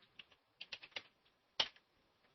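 Quiet, close taps on a computer keyboard as a short command is entered, about a dozen soft clicks in a quick irregular run with one sharper keystroke near the end.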